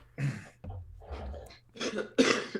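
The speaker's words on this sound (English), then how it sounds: "I was having a bit of a coughing fit there." A series of harsh, throaty coughs in quick bursts, close and fairly loud, with throat clearing between them.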